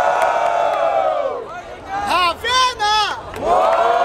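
A crowd at a rap battle semifinal, Batalha da Aldeia in Barueri, São Paulo, cheers and whoops loudly in rising bursts of shouting, with chanting voices swelling and fading close by.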